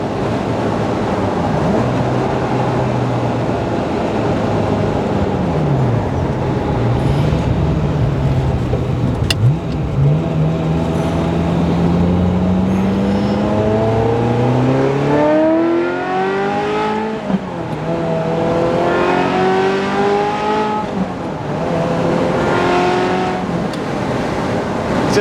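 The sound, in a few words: Ferrari F355 engine revving as it accelerates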